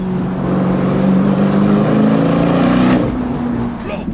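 Powerful 800 hp four-wheel-drive sports car accelerating hard, a loud, sustained engine roar with rising pitch that eases off near the end.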